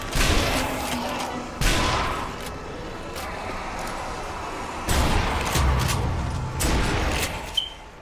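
Shotgun blasts in Zombie Army Trilogy, several loud booming shots spaced a few seconds apart, each with a sharp onset and a decaying tail over a rumbling game background.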